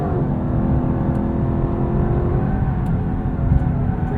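A 2018 Lexus LC 500 driving through a corner, its engine a steady, loud droning hum under light acceleration, heard from inside the cabin.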